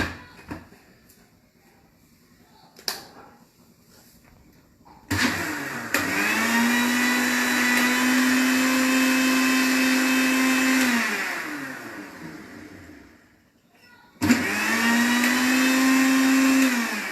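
An electric mixer grinder whirring loudly in two bursts, the first about six seconds with the motor pitch dropping as it winds down, then a short pause before it starts again, with faint kitchen clatter beforehand.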